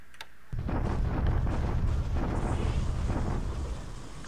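Naval bombardment explosions in the War in the Pacific strategy game, a sudden heavy rumbling boom that rolls on as a sustained dense crackling barrage, loud and alone.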